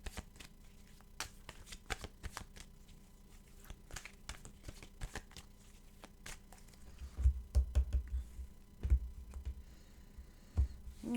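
Tarot cards are shuffled by hand in quick, crisp riffles and soft slaps, with heavier thumps toward the end as the deck is cut and tapped.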